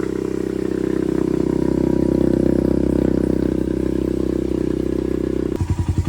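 A Honda CRF/XR100 dirt bike fitted with a BBR 120 big bore kit and new cam idles steadily nearby, a loud, even single-cylinder chug with slight clatter, ending in a few slower, heavier pulses.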